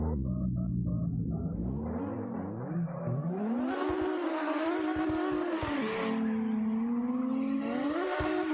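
Cars drift in CarX Drift Racing Online, engines revving and whining through rising and falling pitch sweeps with tire squeal, loud and continuous, no talking.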